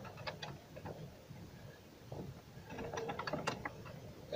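Bolts being tightened on a Renault Duster engine give off faint, uneven metallic ratchet clicks and small clanks of a wrench at work, close but quiet against a low background hum, with no talking.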